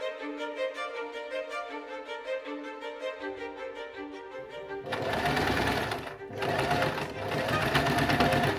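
A sewing machine stitches epaulettes onto the sleeves of a Regency-style jacket, starting with a rapid regular needle chatter that swells into a louder, denser whirring run with a brief pause partway through.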